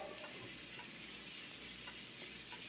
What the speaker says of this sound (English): I don't know if you guys can hear the sizzle already, but it's sizzling.